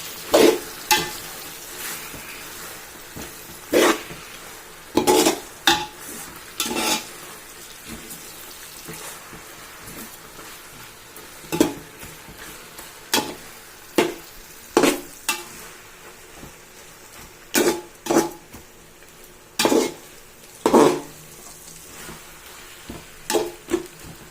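Gongura leaves being stirred through oil in a pan for Andhra gongura pickle, a quiet low sizzle under repeated sharp scraping and clinking strokes of the spoon arriving in irregular bursts.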